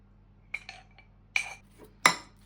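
Vegan slaw being tossed in a bowl, giving a few sparse clinks and scrapes of a utensil against the dish, separated by quiet gaps and fairly close.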